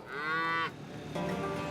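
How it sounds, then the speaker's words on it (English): An elderly horned farm cow gives a single strong moo that breaks off sharply, followed by a quieter, lower lowing, close by with no one talking. "She's a good cow."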